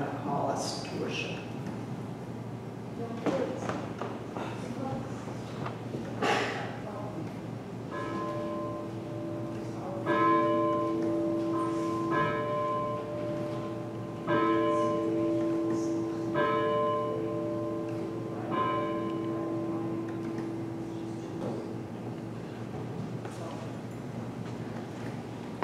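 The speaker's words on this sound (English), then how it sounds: "Now please listen to our bells and call us to worship." Church bells ring out to call a congregation to worship, with repeated ringing strikes over a steady background and faint outdoor sounds around them.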